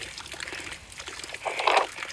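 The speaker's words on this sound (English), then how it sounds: "That is water coming over the hills." Spring water trickling over hillside ground outdoors, a faint soft dribble that swells briefly toward the end.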